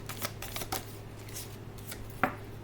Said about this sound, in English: let me see if I can draw any outcome cards for you